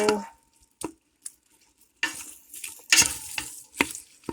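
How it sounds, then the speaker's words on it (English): Onions and peppers sauté in a pan for bean soup, giving intermittent bursts of stirring and frying sizzle separated by brief quiet gaps, close and moderately loud with no talking. "I thought I'd saute the onions and the peppers a little bit before we add our beans"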